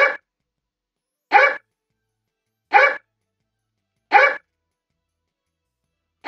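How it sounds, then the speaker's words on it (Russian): A dog in a Ukrainian village adventure video game barks in single, evenly spaced loud barks, roughly one every second and a half, with silence between them and no voices. "А собака гавкает."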